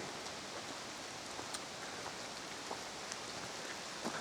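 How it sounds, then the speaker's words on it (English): Steady rain falls during a hike outdoors, a soft, continuous hiss of drops with a few scattered patters, with no voices. "the rain is really starting to come down now"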